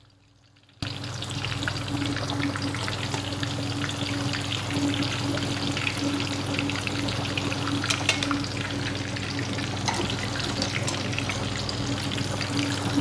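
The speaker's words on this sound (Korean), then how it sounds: "기름 온도 유지하면서 오래 튀길 필요 없이 한 1분 정도" Eggplant deep-frying in hot oil, a dense, steady sizzle and crackle that starts abruptly and holds loud and close throughout, with no talking.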